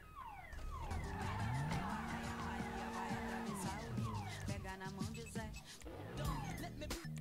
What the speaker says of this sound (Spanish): A andar un poquito mientras termina el directo con este carro rojo hermoso Tesla del corazón